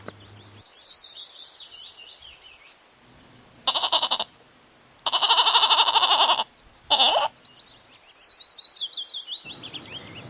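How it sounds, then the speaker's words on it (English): A goat bleats in three loud, wavering bursts, separated by short pauses, with faint bird chirps before and after. "G. G for goat."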